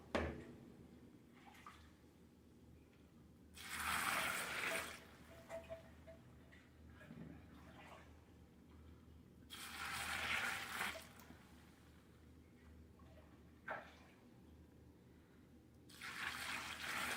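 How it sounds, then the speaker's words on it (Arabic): Hot water gushes from a kitchen tap during homemade pickle preparation, coming in three separate bursts of a few seconds each with quiet pauses between them and no talking. "مي حار."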